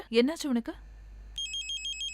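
A telephone rings with a repeated electronic trill in a hospital setting, starting just after a short spoken line and continuing alone.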